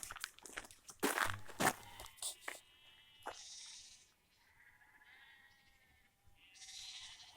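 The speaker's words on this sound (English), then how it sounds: "You should be able to hear there that the sheep are very restless." Restless sheep bleat in the night outdoors, several calls spread across the clip at moderate distance, mixed with crunching steps and rustling close by.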